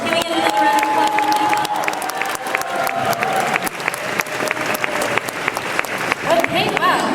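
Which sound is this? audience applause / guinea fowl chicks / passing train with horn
audience applause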